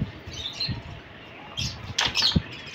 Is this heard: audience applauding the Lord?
no